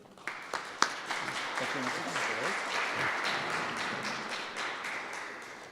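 Audience applause greeting Dr. David Turpin at a formal signing with Alberta's environment ministry, a few sharp early claps swelling into steady, even clapping from a seated crowd that fades slightly at the end.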